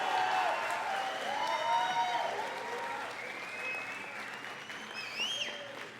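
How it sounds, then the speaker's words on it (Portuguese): A church congregation bursts into sustained applause with shouts and whistles, dense and steady at first, then gradually thinning as voices rise over it. "Então dê um aplauso, dê um grito, dê um assobio."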